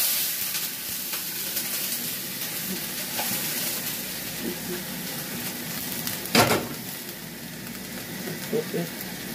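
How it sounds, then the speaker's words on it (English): Bacon frying in a pan, a steady close sizzle and crackle with a brief louder burst partway through, no talk over it. "Got one more batch of bacon to cook."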